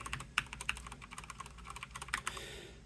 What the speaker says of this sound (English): So I've got this keyboard here, which is also a Durgod TKL, but this one has the Cherry MX Browns.